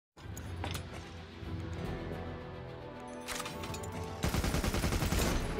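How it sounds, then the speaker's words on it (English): Heavy Bowgun ammo fire in the video game Monster Hunter Wilds, heard as dense, continuous booming blasts with layered impacts that grow louder and sharper toward the end, with no talking. "it fires ammo from a distance"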